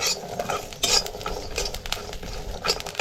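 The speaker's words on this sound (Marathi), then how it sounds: "आता आपल्याला ही लसूण अशी भाजून घ्यायची जरा चांगली." Garlic roasting in a pan, with repeated scraping and clinking strokes of a spoon against the metal over a light sizzle. The irregular stirring sounds run close and steady throughout, with no talking.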